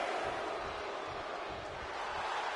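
Wrestling arena crowd in a WWE video game roars and cheers in a steady, dense wash of noise that holds for the whole stretch without a break.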